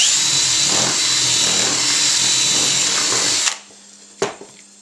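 A power drill enlarges bolt holes in a homemade hop spider, whirring loudly and steadily for about three and a half seconds before stopping, followed by a single sharp clank.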